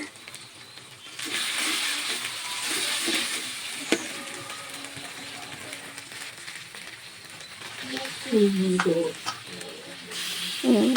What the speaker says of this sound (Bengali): একটু নাড়তে নাড়তে থাকবেন দেখবেন যে সুন্দর করে কষান হয়ে যাচ্ছে